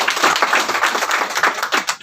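A live seminar audience breaks into hearty clapping during a business plan presentation, many hands patting in a dense, uneven burst that stays fairly loud for the whole two seconds.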